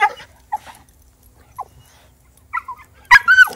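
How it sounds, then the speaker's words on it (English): A dog barks in short, scattered yips and whines with quiet gaps between them, close by, ending in a louder burst of a bark followed by a rising, whining yelp. "he definitely likes to bark"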